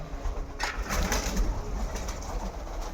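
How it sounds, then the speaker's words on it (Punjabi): Domestic pigeons kept at a house in Punjab coo softly up close in a few low repeated calls, with faint rustling around them. "ਆਪਾਂ ਕਬੂਤਰ ਦਿਖਾ ਲਈਏ"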